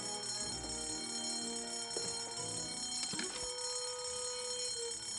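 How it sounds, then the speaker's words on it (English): A fire alarm rings in the video game Escape from Monkey Island, a faint continuous electronic ringing tone that holds steady with a few soft clanks and thuds over it, and no voices. "Oh, that noise. The fire alarm is not a toy, Mr. Threepwood."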